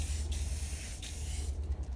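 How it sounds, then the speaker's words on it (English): Old spray paint can hissing in steady bursts while testing the nozzle, a close, harsh continuous spray broken by a couple of quick pauses, with a low background hum and no talk. "I test my spray cans more and more before I start"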